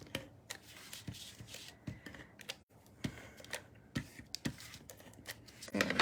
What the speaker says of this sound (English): I'm just using my Stampin' Seal.